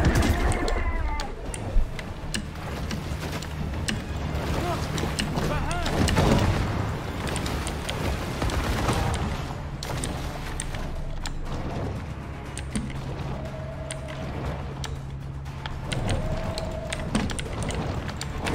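Gunfire and laser shots from the Maneater video game, fighting shark hunters, sound as repeated booms and sharp blasts over continuous game noise.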